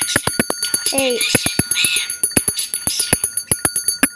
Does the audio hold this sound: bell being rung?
yes